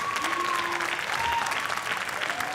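A high school concert audience applauds seniors gathering at the front of the stage, a steady, fairly soft wash of clapping in a hall with faint tones and murmurs underneath.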